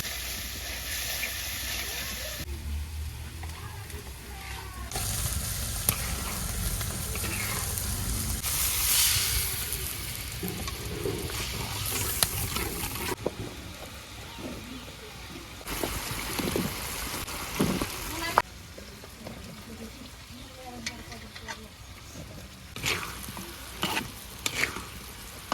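Spices temper in hot oil in a pan for a village-style papaya dal, sizzling and hissing steadily with repeated stirring scrapes and clatters, close and fairly loud, and a voice speaks briefly.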